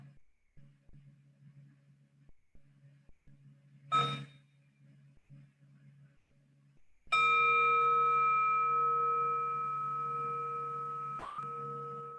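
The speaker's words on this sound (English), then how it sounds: "why don't we enjoy sound of the bell?" A single meditation bell is struck during a Buddhist dharma talk and rings out with a long, clear, slowly fading tone over a faint low hum, followed by a softer earlier chime.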